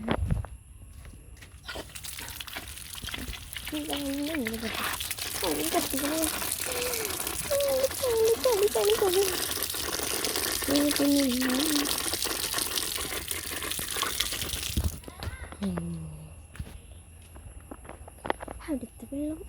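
Water gushes steadily from a pipe for about thirteen seconds, a loud, continuous rush close by that stops abruptly, with a person talking over it.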